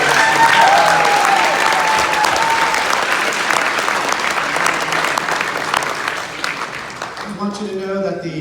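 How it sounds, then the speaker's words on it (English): Wedding reception guests give a long round of applause, loud and dense at first, gradually thinning over about seven seconds before a voice and music take over at the end. "I'd like to give her a big round of applause"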